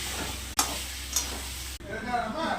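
Tomato and potatoes hit hot oil spiced with ginger, chili, cumin and coriander, giving a loud steady sizzle with sharp stirring scrapes, close up and without talk.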